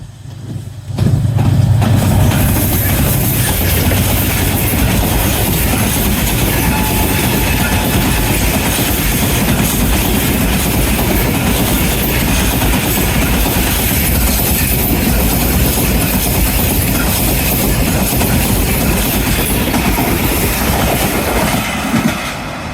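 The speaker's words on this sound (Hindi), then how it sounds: "10 down Allama Iqbal Express at the speed of 100 km/h." The 10 Down Allama Iqbal Express rushes past at about 100 km/h near Jungshahi on Pakistan's Karachi main line, a loud sustained roar of rail cars with rhythmic clickety-clack and faint wheel squeal, filling the whole span without a break.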